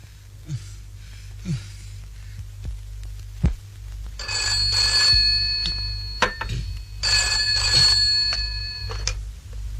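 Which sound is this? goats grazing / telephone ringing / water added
telephone ringing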